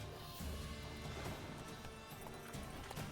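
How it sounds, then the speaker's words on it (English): A horse in The Witcher 3 gallops in panic, its clip-clopping hooves running fast and continuous amid a dense, noisy game mix, with a neigh rising through it. "Pânico do cavalo."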